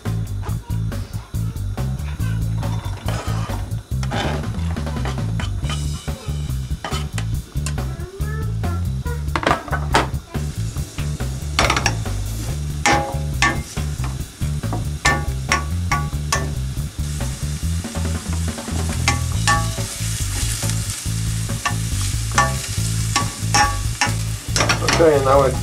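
Chopped onions frying in oil for a minced-meat bourak filling, a loud steady sizzle broken by repeated scraping and clattering stirs of a utensil against the pan.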